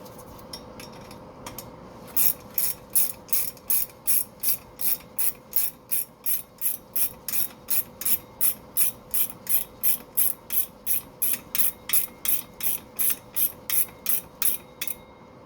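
A ratchet tightening a bolt on the rear suspension of a 1967 Mustang, giving a long, even run of sharp clicks in a steady rhythm at close range, heard on its own without speech.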